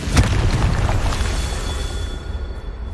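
A Confringo explosion spell goes off in the video game Hogwarts Legacy, a single loud booming blast near the start. Its deep rumbling tail fades out over the next couple of seconds.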